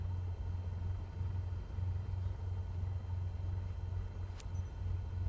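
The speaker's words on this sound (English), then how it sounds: "If the hear seat belts are fastened, you're ready for takeoff. Engine started." A light aircraft engine, the Cessna in the flight sim MSFS2024, runs at a steady low drone throughout, a constant rumbling hum with no voices over it.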